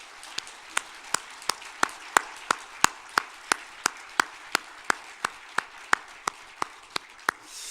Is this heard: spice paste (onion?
no